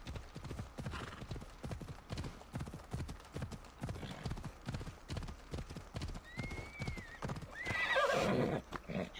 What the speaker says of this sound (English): Red Dead horse riding, this is nuts.